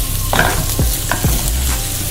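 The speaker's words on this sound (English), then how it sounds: "And we're gonna saute this up." Arborio rice sautéing in a tablespoon of butter in a pan for risotto, heard as a steady close sizzle with a few stirring scrapes and clacks, no talking.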